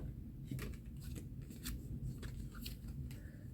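Tarot cards drawn from a deck during a reading, giving soft, brief papery slides and flicks over a low steady background hum, with no talking.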